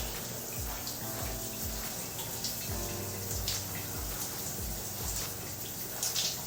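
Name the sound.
running water wetting hair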